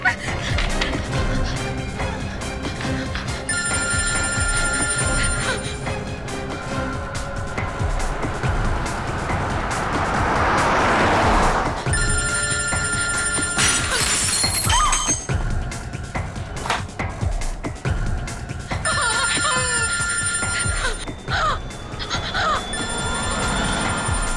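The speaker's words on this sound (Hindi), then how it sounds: "सर कोई फोन ही नहीं उठा।" A telephone rings in repeated bursts over a busy, noisy background, the rings returning again and again with no one picking up.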